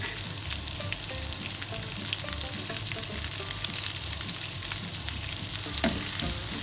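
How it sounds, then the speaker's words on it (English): Onion and garlic sautéing in melted butter in a pan, with a continuous close sizzle and small crackles plus occasional stirring clinks. "I'm going to saute that for about 5 minutes till your onions go translucent"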